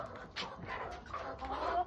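Hens in a backyard coop cluck and murmur softly in a short, faint stretch, with a few sharper calls over a low rustling background.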